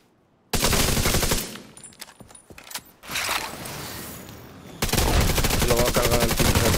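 Rapid automatic gunfire in a shooter video game, loud sustained bursts broken by a stretch of scattered shots and clatter, then another long burst of fire.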